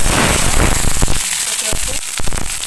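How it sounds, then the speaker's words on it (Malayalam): Mustard seeds splutter in hot oil, a dense burst of crackling and popping that carries on steadily for a few seconds at close range. "കടുക് ഇട്ട് കൊടുക്കാം"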